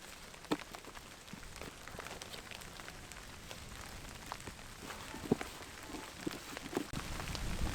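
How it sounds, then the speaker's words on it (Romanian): Steady light rain patters outdoors beside water where groundbait is being mixed for spring fishing in cold water, with scattered sharper drop ticks over a soft continuous hiss that swells slightly toward the end; no voices. "se pare că vine ploaia"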